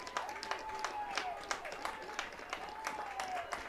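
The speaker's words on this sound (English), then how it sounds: "As the fans clapping them to the sideline." Football fans in the stands at a state AAA high school semifinal clap as players head to the sideline during a timeout, a steady scattered patter of moderate-volume claps with crowd murmur and a faint whistle-like tone.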